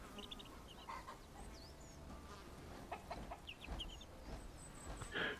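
A hen in the farming game Bellwright clucks in short bursts, soft and somewhat distant, alongside buzzing insect-like ambience in a quiet outdoor setting.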